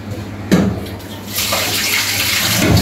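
Water pours steadily into a pot of fish curry with eggplant and potato, a loud close splash that starts abruptly and then rushes on continuously.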